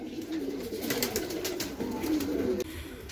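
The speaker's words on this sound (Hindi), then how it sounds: "कबूतर सब बाहर हैं अपने।" Pigeons at a loft coo softly and continuously, low burbling calls close by, with a faint airy background.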